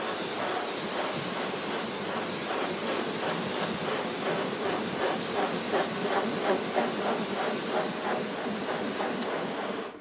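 Kärcher K3 high pressure cleaner spraying an old, dirty awning, producing a steady, loud hissing water jet that runs continuously and close throughout with no voices.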